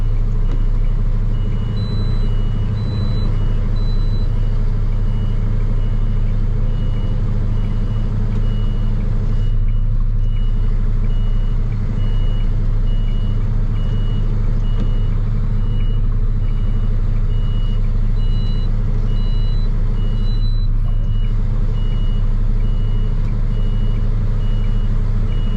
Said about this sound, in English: That truck's starting to do that shaking thing again when I back too.